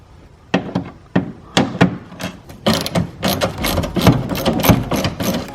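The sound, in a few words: ratchet removing 8mm screws behind BMW E90 tire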